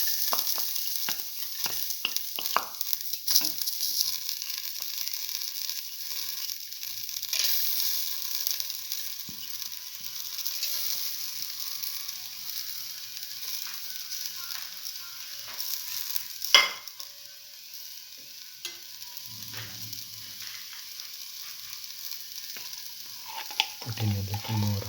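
Black lentils frying in clarified butter in a pan, stirred now and then: an ongoing sizzle with scraping and clattering utensil strokes, a louder knock midway and low thumps near the end.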